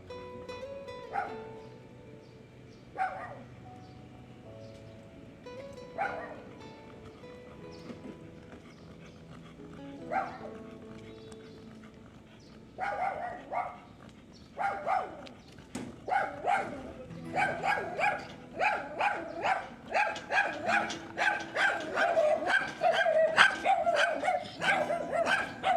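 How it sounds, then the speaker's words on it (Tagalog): Small dogs bark along a street in San Antonio, starting with spaced single yaps and building into a dense, continuous chorus of near, sharp barking, with some talk in the background. "Diyan na naman yung mga maliliit na dogs."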